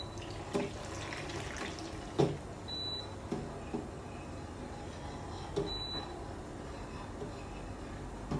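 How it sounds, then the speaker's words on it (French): Hay-infused liquid is poured into a celery broth, a soft continuous trickle and splash heard close but faint, with a couple of light knocks and a small beep, no one speaking. "on va venir verser le tout dans notre bouillon de céleri."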